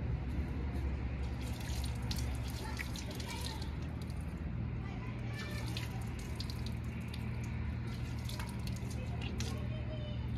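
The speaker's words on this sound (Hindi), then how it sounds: "अब साफ पानी से और कर लेती हूँ एक बार" Water runs steadily from a tap at home as clean water rinses off after washing, a constant wash of splashing and trickling that stays low and even throughout.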